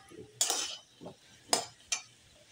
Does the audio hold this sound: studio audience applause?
no